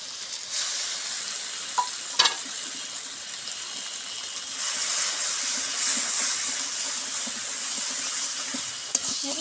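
Ground spice paste stirred and fried in a pan for an egg and pointed gourd curry with yogurt, a continuous loud sizzle that swells midway, with scraping spoon strokes and a few clinks, no talk.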